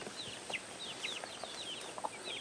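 A mother hen clucking in a chicken coop, with repeated short clucks and calls from several birds over a steady background, moderately close.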